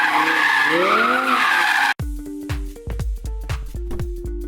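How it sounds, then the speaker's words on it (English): A rear-wheel-drive Audi R8 skids and spins donuts, its tires squealing in a loud, wavering howl, then cutting to a series of sharp, close impacts and rattles. "introduced a rear wheel drive option named RWS or rear wheel series for the stupid skids and donuts"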